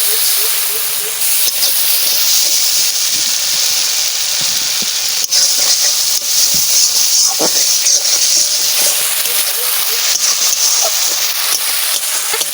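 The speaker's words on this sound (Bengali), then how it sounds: "লাল লাল করে মশলা আমার ভাজা হয়ে গেছে" Spice paste frying in a pan for a catfish and potato curry, a steady loud sizzling hiss with small crackles and pops throughout, close up and without talk.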